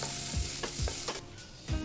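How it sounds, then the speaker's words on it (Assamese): Ginger and garlic frying with onion in a pan over low gas, a continuous sizzle broken by several stirring scrapes at a steady rhythm. "এতিয়া আদা নহৰুখিনি ভাজা হৈ আছে পিঁয়াজৰ সৈতে"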